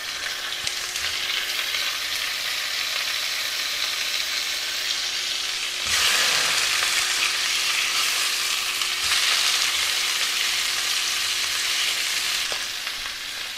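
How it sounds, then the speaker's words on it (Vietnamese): Catfish pieces frying in a pan until golden, a steady loud sizzle and crackle of hot oil that swells briefly midway, with no voices. "cho cá vô mình chiên cho nó vàng nha cả nhà,"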